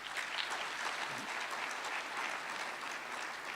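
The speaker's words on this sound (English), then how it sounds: "So thank you, and give them a round of applause again." Audience applause fills a conference closing session: steady, dense clapping from many hands, held at an even level throughout with no voices on top.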